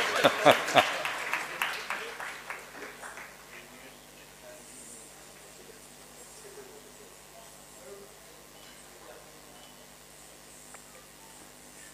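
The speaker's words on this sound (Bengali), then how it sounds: "হাততালিটা কিন্তু সমবেত হচ্ছে না," Scattered, uneven applause rings out at an award ceremony, a burst of sharp claps at the start that quickly thins into sparse, sporadic clapping under faint room noise and murmuring.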